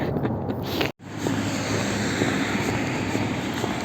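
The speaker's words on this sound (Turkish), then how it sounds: "Tabii ki Eskişehir'in vazgeçilmez uçak sesi." A steady jet-engine roar from an airplane drones overhead in Eskişehir, Turkey, with wind noise mixed in and a brief cut in the sound near the start.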